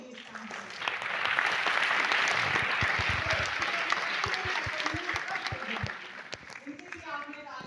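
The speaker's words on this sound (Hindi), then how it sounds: "आपने तालियां बजा के सच में बहुत बड़ा काम किया है" A student audience at a college institute of science applauds volunteers, with dense crowd clapping building quickly, staying full and steady for several seconds, then thinning out toward the end.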